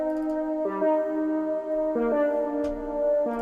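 A synth lead from a Caribbean-style beat plays alone as a bright, harmonically rich melody of sustained notes that shift in pitch every second or so, moderately loud and with no voices.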